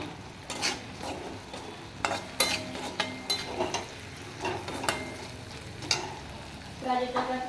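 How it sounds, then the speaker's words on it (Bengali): Onions sizzling steadily as they fry in oil, with repeated scraping and stirring strokes against the pan at an uneven rhythm, close and fairly loud. "পেঁয়াজগুলো আমি লাল লাল করে ভেজে নেব।"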